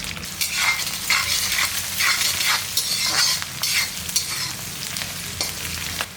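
Green chillies, curry leaves and shallots fry in a pan for a broad bean paruppu usili, a loud, steady sizzle with repeated scraping stirs close by.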